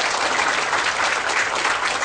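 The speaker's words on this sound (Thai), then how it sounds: "ปรบมือให้กับทีมเวิร์กของ PTA ของเราด้วยนะครับ" An audience applauds a PTA team at a bilingual walk rally event, a dense, steady wash of many hands clapping at close range, sustained evenly throughout with no voices breaking through.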